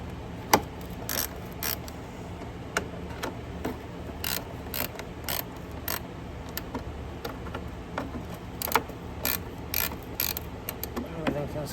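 A wrench ratchets on the 3/8 screws holding the pull-start recoil case of a Polaris 500 Sportsman ATV, giving a steady run of close metallic clicks and ticks in uneven bursts over a low continuous background hum.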